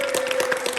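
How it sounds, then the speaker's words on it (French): Crowd applause for children at a French mini-games gift event, a steady dense patter of clapping throughout a brief moment. "On applaudit les enfants."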